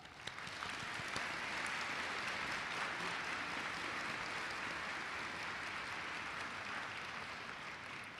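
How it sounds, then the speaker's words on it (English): Sustained audience applause fills a graduation hooding reception, rising quickly and holding steady at an even, dense level for several seconds before tapering slightly, with no voices on top. "Let's give them a round of applause"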